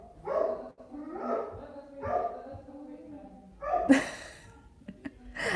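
Dogs bark several times in short bursts, fairly near, with a sharper yip near the end and faint background noise.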